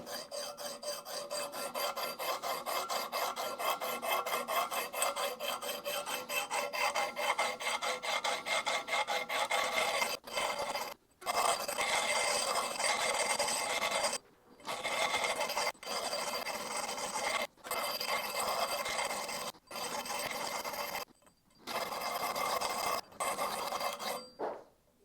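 Steady rasping strokes of a file across an axe blade held in a homemade sharpening jig built from two fret saw clamps, loud and close, running continuously before breaking into short bursts separated by brief pauses.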